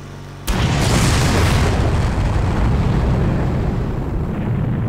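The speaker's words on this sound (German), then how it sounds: "es war nur ein kleiner Generator und die Explosion hört sich an wie eine Atomexplosion" A small generator in the video game Far Cry explodes with a sudden loud boom, followed by a sustained roaring rumble that stays loud and dense for several seconds with no talking.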